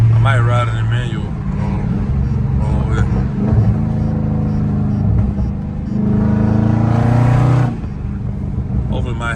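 A loud catless Dodge Charger Scat Pack engine in traffic rumbles deeply from inside the cabin, with rising revs and throttle blips and a strong surge of acceleration near the end, while someone talks over it.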